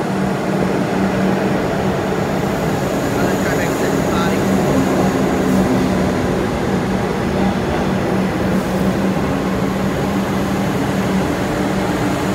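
Melbourne suburban train led by car 511 M at Carnegie station, a loud, continuous rumbling drone with a steady low motor hum that holds at the same level throughout.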